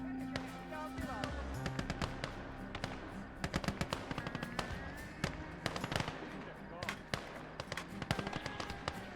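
Rapid machine gun bursts and sharp explosive cracks in a World War II video game set in Finland, loud and dense, under busy in-game noise and players talking.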